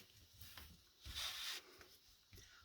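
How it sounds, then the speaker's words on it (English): A bone folder rubs and burnishes paper down onto chipboard for a Stamperia ceremony album, giving soft scraping strokes in a few short passes, with one longer, louder sweep in the middle. Close and quiet, with no talking. "you're going to burnish this down"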